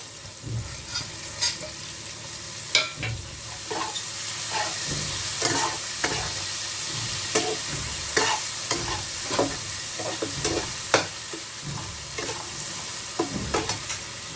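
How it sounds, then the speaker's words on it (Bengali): Ginger stirs into hot oil with turmeric in a pan for a meat and cauliflower curry: a spoon scrapes in repeated, regular strokes over a continuous close sizzle, with no talking. "এবার একটু নেড়ে নেব এবার রেড করে আদা দিয়ে দেবো"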